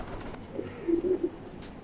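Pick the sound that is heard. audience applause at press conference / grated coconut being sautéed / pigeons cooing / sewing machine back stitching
pigeons cooing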